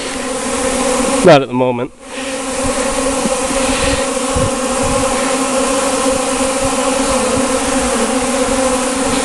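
Honey bees swarm around a hive in a loud, close, steady drone that fills the whole stretch, with a brief spoken reply near the start.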